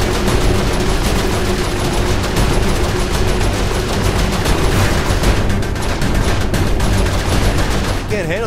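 Loud, continuous gunfire from Saints Row IV during a mission aboard a ship: a dense fusillade of rapid shots that holds throughout, with a voice talking underneath.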